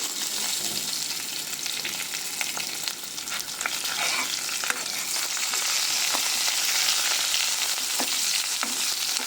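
Split green chillies sauté in oil for a dal tadka, a dense, continuous close sizzle with scattered crackles and spits, no voices present.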